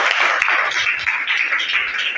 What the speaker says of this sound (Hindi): एक बार फिर से ताली बजाओ बच्चे के लिए।